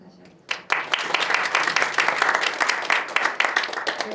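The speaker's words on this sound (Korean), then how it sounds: "우리 김우정 대표님께 큰 박수 다시 한번" After a lecture at an entrepreneur forum, an audience breaks into applause that starts abruptly and continues as steady, dense clapping for several seconds.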